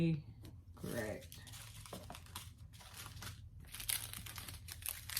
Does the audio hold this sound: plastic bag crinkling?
yes